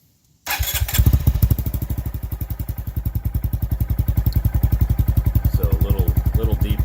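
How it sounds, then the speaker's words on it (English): A 2019 Honda Monkey motorcycle fitted with a Takegawa OEM-style exhaust fires up from cold after a brief silence, settling into a loud, close, steady thumping idle with rapid even pulses. "this is a cold start, so I'll just fire it up real quick"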